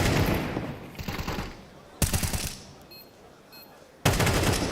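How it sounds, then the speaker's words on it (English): Automatic gunfire sprays in long bursts during a professional Counter-Strike tournament match, loud and close, cutting off and resuming between quieter game sounds, with faint talk underneath. "you can hear a Blitz using all of his ammo, trying to spam on the cross"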